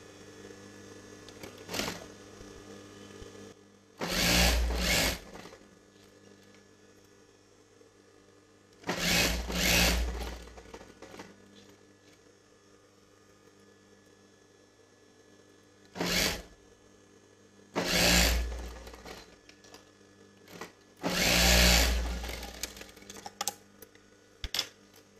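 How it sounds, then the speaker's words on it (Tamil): A sewing machine stitches along the wrong side of an Indian dress neckline, running in five separate bursts of a few seconds each with quiet gaps between them, close and fairly loud. "ராங் சைடில் வந்து ஸ்டிச் பண்ணலாம்"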